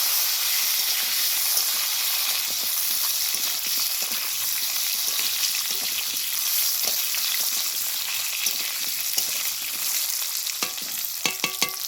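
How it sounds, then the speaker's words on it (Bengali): Cut potatoes frying in oil for Bengali fish kalia, a steady close sizzle and crackle running throughout with occasional stirring clicks and scrapes near the end. "এবার দিয়ে দিচ্ছি কেটে রাখা আলু। আলুটাকে খুব ভালোভাবে ভেজে নেব।"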